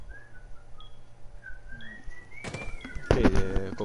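A person whistles a thin, wavering tune during a Rainbow Six Siege match, quiet at first, then loud game noise and clatter cut in over it toward the end.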